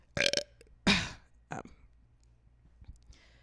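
A couple of short, close burps, the second longer and throatier, followed by faint clicks and a brief soft breath in a quiet room.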